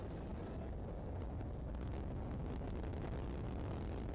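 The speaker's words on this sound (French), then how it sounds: "Un peu de vent, vous l'entendez." Wind gusting across an outdoor triathlon course at the Dunkirk Grand Prix, a constant broad rushing roar buffeting the microphone, steady and fairly loud with no voices.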